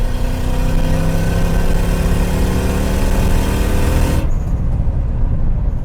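A turbocharged 3UZ V8 in a Lexus GS cruises at highway speed around 3,500 RPM. The engine gives a loud, steady drone with road noise throughout, and the higher tones drop away near the end.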